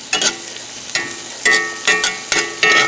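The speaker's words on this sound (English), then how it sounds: "Now that they've come up to a sizzle, you can see the bubbling there." Onions and apples sizzle in a hot pan in repeated bursts, with stirring scrapes between crackling surges, close and fairly loud.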